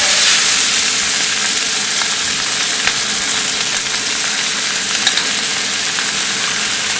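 Turmeric and potato sizzle in a frying pan with a loud, continuous hiss and crackle, close up and broken only by faint stirring clicks.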